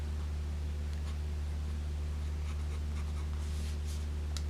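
A Benu Talisman fountain pen with a wet Smith nib writing in a research journal, a soft scratchy nib sound faintly audible over a constant low electrical hum and background hiss.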